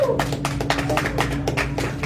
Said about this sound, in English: Give another warm round of applause for our headliner, Casey Weissman.